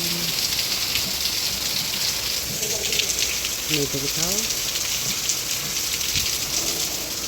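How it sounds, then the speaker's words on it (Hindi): Steady heavy rain hisses across the whole clip, with a voice speaking briefly over it. "ये देखो है ना, बहुत ज़्यादा बारिश"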